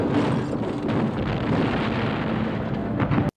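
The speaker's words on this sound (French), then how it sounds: "Saviez-vous qu'un vampire, ça explose? Et que 2 vampires, ça explose encore plus." Vampires exploding in the 1987 film Near Dark, a loud, sustained roaring blast with crackling debris that rumbles on for several seconds and then cuts off abruptly.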